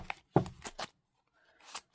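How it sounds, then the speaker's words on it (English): Overhand shuffling of a thick Pixies Marseille tarot deck, heard as a few close, sharp card slaps and rustles in uneven bursts separated by quiet gaps. "As everyone knows, I'm an overhand shuffler."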